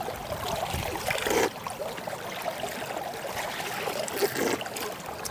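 Clear mountain stream water trickling and gurgling into Lake Baikal in Siberia, a steady close babble with a couple of louder splashy surges, no voices.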